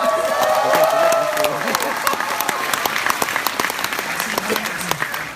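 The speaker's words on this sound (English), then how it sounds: "give them a round of applause" Audience applause at a talk featuring a guest, a dense crowd clapping loudly and continuously, with a voice briefly heard over the start before the clapping settles into an even patter.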